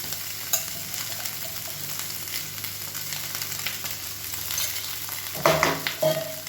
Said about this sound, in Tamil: இது வந்து அப்படியே மெதுவாக கிளறி வச்சுக்கலாம். சாதம் உடையாத அளவுக்கு கிளறி வச்சுக்கணும்.